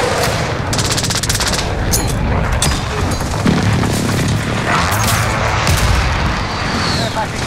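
Heavy Call of Duty Modern Warfare battle noise from a precision airstrike: dense, continuous rattling gunfire and booming explosions, loud and close throughout, with voices shouting over it.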